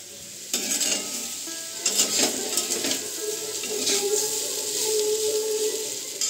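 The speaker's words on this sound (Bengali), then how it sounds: "আর একটু ভাজা হবে আলুটা।" Potatoes fry in a pan at close range, a steady sizzle with repeated scraping and clinking of a utensil stirring against the metal, growing slightly louder toward the end.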